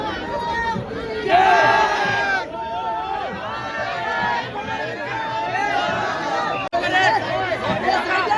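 A large crowd of devotees at the Ekvira Aai palanquin procession roars and chatters continuously, with shouts rising above the babble and a surge of louder cheering early on.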